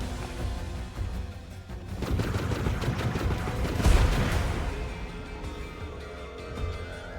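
Enemy gunfire in the video game The Falconeer, a sustained rattling barrage of rapid shots and booms swelling to a peak midway and then trailing off, with no talk over it.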